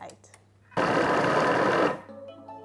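A Thermomix whirring as it mixes flour, cheese and butter, a loud, steady motor buzz that kicks in abruptly, runs for about a second, then cuts off, with speech around it.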